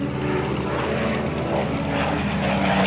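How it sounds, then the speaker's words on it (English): A Dewoitine D-520 fighter plane's engine drones loud and steady, a continuous close propeller roar that holds level for a few seconds without pause. "They quickly mastered flying French planes like the Douatine D-520 fighter."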